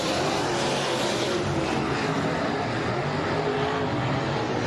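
Race cars roar around HOT Speedway on Autism Awareness Night, a dense, steady engine drone that stays loud and unbroken, with no clear pass-by peaks.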